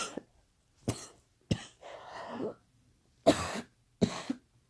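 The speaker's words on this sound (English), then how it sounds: "excuse the coughing," A sick man coughs repeatedly, in several harsh, close bursts spaced by short pauses, with a longer raspy stretch in the middle.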